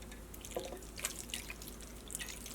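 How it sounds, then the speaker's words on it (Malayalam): Coconut milk is poured into a clay pot, making a close, soft stream of trickling and dripping liquid sounds with no talking. "ഇതിലേക്ക് നമ്മൾ തേങ്ങാപ്പാൽ ചേർക്കണം."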